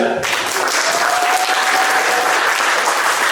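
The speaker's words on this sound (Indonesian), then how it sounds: "Aplaus untuk Pak Riza." An audience applauds Pak Riza during a project-based learning session. The clapping is dense and steady, and it continues evenly from start to finish.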